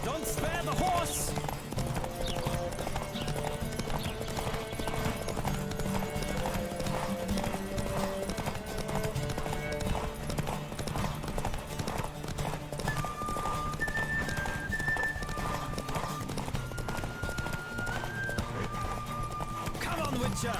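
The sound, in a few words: horses galloping in a race in The Witcher video game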